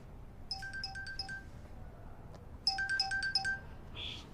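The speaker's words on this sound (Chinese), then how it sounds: "我接个电话" A phone ringtone sounds for an incoming call in a quiet room, playing two short bursts of a bright, beeping melody that are faint and clear, with no one speaking.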